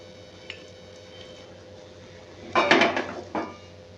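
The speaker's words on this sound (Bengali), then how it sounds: "এবার এটা আমি একটা প্লেটে সার্ভ করে নেব।" Cooked cabbage with fish head is spooned onto a plate: a faint early clink, then a cluster of sharp utensil scrapes and clatters against the dish, with a final tap before it settles.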